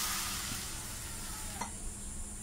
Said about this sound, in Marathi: कढईमध्ये पाणी घालूया।